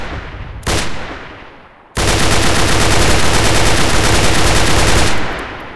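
Celebratory gunfire during Eid night festivities in Pashtun villages: one short burst of shots, a pause, then a long, loud, sustained rattle of rapid automatic fire lasting several seconds before it cuts off.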